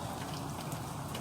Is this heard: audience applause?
no